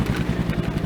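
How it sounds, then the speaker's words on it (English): A truck engine idles steadily and loudly up close, with a low, even, throbbing rumble and no talking. "She's back to idling nicely."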